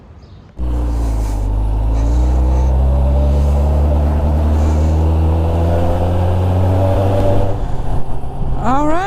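A motorbike on a long-distance ride from Tyumen toward Yekaterinburg starts up and accelerates away, its engine note climbing into a loud, steady drone with rising harmonics, heard up close.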